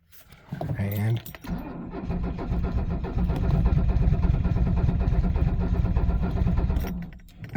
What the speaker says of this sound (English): Here I've been cranking and trying to get her to start for over 3 minutes.